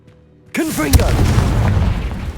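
A Confringo fire spell blasts in Hogwarts Legacy: a sudden loud boom that stays as a rolling, crackling roar for about two seconds. Swooping whoosh tones of the spell's flight ring out over the blast.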